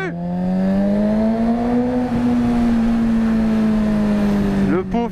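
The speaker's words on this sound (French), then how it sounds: "Le pot fait un de ces bruits" A Suzuki GSX-R motorcycle exhaust drones loud and close, its pitch climbing gently and holding before a brief rev burst near the end.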